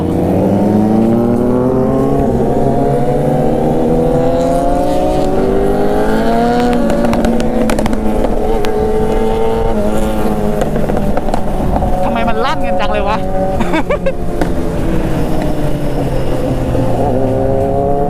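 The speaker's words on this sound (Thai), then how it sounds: "เสียงโคตรดังอ่ะ ท่อยิงไฟด้วย" A loud motorcycle exhaust roars and revs continuously, with crackling pops and bangs breaking through, close by, while voices talk underneath.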